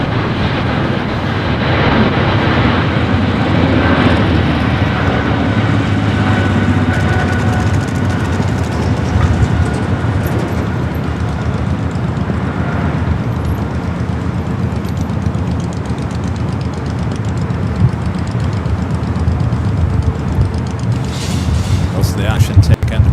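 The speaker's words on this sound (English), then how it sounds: "We do have Speedbird heading back to London Heathrow, now rolling down" A British Airways jet rolls for takeoff on runway 25 right at Los Angeles LAX, a steady broad engine roar holding loud and close throughout, with voices talking over it.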